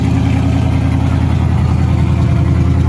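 A 1955 Buick engine idles steadily with a rhythmic ticking from a suspected leaking exhaust manifold gasket, loud and close.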